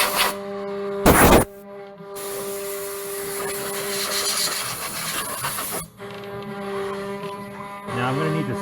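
A CNC machine cutting a wooden Merry Christmas piece, a continuous mid-level whirring hiss with steady motor tones, broken by a short burst of harsher noise early on and a brief dip near the end.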